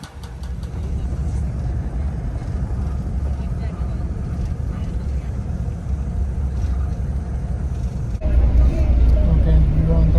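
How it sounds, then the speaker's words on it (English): Interior of a bus riding through India, with a steady low engine rumble and road noise throughout that grows louder and heavier near the end; voices talk over it. "Okay, we're on the bus now."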